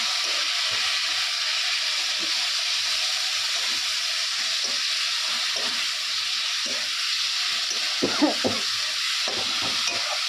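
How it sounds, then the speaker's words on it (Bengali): Ground garlic and ginger spice paste for a Bengali curry fries in hot oil with a loud, continuous sizzle and hiss. A spoon scrapes and stirs the pan now and then, with a cluster of scrapes near the end. "এটা ভালো করে কষিয়ে নিতে হবে"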